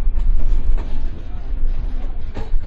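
The Drutojan Express rolls slowly over a bridge under repair between Dinajpur and Dhaka, a close, low rumble with rhythmic wheel clatter and metallic rattling, loud and continuous, with faint voices in the background.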